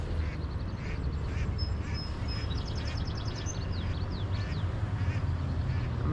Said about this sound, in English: I mean, there's like 4 mallard ducks.